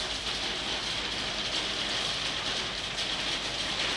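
Hail falling hard and continuously, a loud, dense hiss of pelting ice on surfaces with no letup and no talk.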